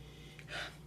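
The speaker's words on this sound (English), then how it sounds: "Let's give it a sniffy sniff." A short nasal sniff over a glass of red Ohio wine, two quick quiet inhalations close to the microphone, the second stronger and longer.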